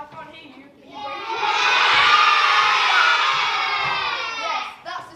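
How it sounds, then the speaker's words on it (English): Young children at a school STEAM week assembly cheer and shout together as a crowd, a loud sustained roar that builds after a second and fades out at the end. "Yes, that's the sound of the crowd who's about to see something so wild"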